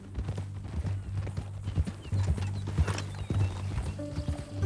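In Red Dead Redemption 2, a horse trots with steady, close hoofbeats on hard ground and lets out a whinny along the way.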